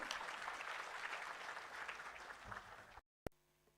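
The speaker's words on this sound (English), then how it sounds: "Can we have a round of applause for our guest of honor?" At the Smart India Hackathon 2024 grand finale inaugural event, an audience applauds the guest of honor with a sustained wash of clapping that cuts off abruptly near the end, followed by a faint hum.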